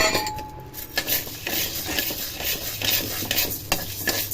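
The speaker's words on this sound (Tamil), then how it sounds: "ஒரு கப் உளுத்த பருப்பு போட்டுக்கலாம் கால் கப் பச்சரிசி போட்டு வறுத்துக்கலாம்" Urad dal and raw rice are dry-roasted in a pan and stirred, producing a steady scraping, rustling stir with faint sizzle and occasional utensil clinks against the pan, close by.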